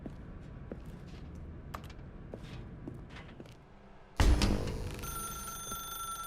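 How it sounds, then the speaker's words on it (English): A telephone in the video game The Stanley Parable: Ultra Deluxe: faint scattered clicks and taps, then a sudden loud burst with ringing tones that hold on and slowly fade. "Why did you unplug the phone?"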